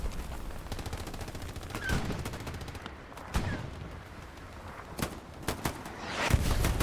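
Gunfire crackles throughout a battle in Hell Let Loose on Utah Beach, and a few sharper blasts stand out near 3.4 and 5 seconds, one of which may be the satchel charge going off.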